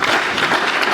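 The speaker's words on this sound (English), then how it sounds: "Another round of applause" Audience applause at a university registrars' annual retreat and business meeting in Nigeria, a steady, dense burst of many hands clapping indoors.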